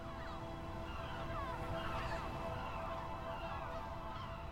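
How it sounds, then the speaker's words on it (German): Gulls circling and screeching over their breeding colony on Roque Chico de Salmor, a sea rock in the Canary Islands; scattered shrill calls rise over a steady wash of surf and wind, fairly distant and faint. "Möwen umkreisen kreischend den Roque Chico de Salmor."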